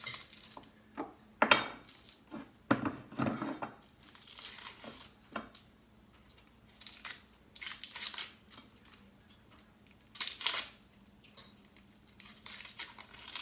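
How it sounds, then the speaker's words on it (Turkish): Irregular knife cuts and chopping taps on a board as an onion is chopped, scattered bursts with pauses between, close by and without any talking. "Şimdi bir de soğanımızı doğrayalım yemeklik."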